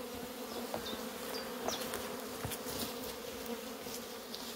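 Honey bees buzz in a dense, continuous drone at the front of a hive, close and steady, with a few individual bees whining past.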